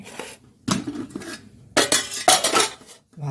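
Metal plate and utensils clatter and clink while rice is served at home, several sharp bursts of scraping and knocking close by, separated by short quiet gaps, with no talk.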